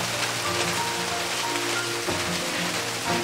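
Summer sun-shower rain falling in a cypress forest: a steady, dense patter of drops on leaves and surfaces, continuous and close, with no voices.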